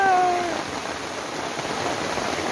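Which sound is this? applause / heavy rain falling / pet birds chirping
heavy rain falling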